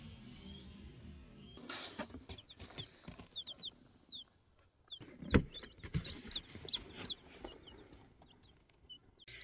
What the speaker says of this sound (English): So today we got some baby chicks.